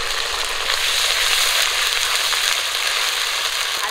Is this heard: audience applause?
no